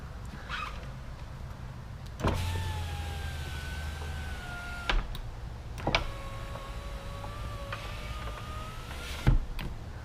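An electric power window motor in a repaired Audi 5000 CS Quattro door whines through two smooth runs of a few seconds each, bracketed by sharp clicks and thumps as the glass starts and stops.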